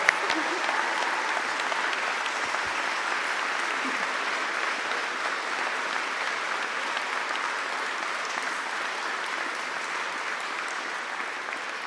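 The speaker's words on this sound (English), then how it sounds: "So we have to give Marcel Leahy a big round of applause" A large audience at a Vermont Army National Guard gathering in Colchester applauds Marcel Leahy, a dense, steady round of clapping that holds loud and even for the whole stretch.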